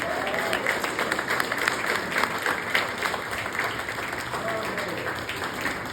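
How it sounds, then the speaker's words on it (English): Audience applause at the Visayas Art Fair for performers in Mindanao and Bukidnon costumes, a broad sustained patter of many hands with crowd murmur and a faint voice underneath, steady throughout. "They deserve a round of applause."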